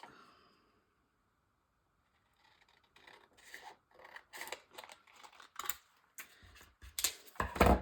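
Scissors snip through paper for a collage in a run of short, crisp cuts, growing louder and quicker after a quiet start.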